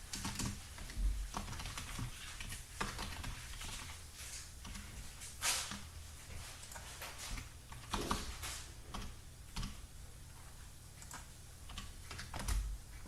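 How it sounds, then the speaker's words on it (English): Steady typing on a computer keyboard, a quiet stream of irregular key clicks with a few louder taps, close and alone without speech. "now just let me type this in"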